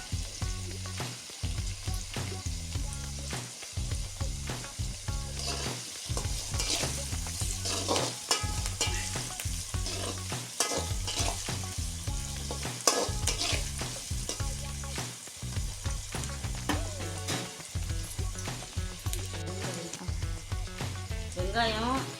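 Onions sizzle and fry in a pan for tomato thokku, with steady crackling and repeated scraping strokes of a spoon stirring them throughout, close and fairly loud.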